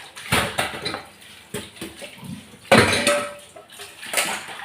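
Dishes and cooking vessels being washed in a small sink: irregular clatter and clinks of metal pots and utensils with bursts of splashing water, close and fairly loud, with a few louder knocks.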